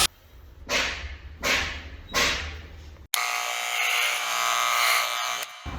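Electric hair clippers buzz as they shave a head, starting with three short separate passes and then running in one long, loud, close-up stretch before cutting off near the end, with no speech over it.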